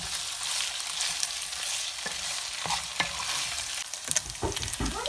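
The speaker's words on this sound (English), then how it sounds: "So I'm just add the basil and mix with the meat." Beef and basil stir-fried together in a hot pan give a steady, close sizzling hiss, with scraping and knocking of the stirring utensil growing busier toward the end; no voices.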